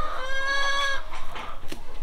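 A chicken lets out a drawn-out, squawking call up close, followed by a few shorter clucks.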